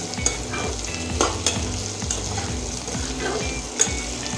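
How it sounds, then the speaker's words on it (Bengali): Fried potatoes stirred in a pan with ginger, garlic and onion, giving a steady close sizzle broken by repeated scraping strokes of a spoon against the pan at a regular pace. "আলুটা এখন আদা রসুন পেঁয়াজের সঙ্গে একটু কষিয়ে নেব"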